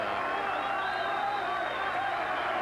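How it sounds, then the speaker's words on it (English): A boxing arena crowd on its feet cheers in a steady, dense roar that stays constant and fairly loud throughout, with no distinct voices standing out. "Crowd likes it. They're on their feet."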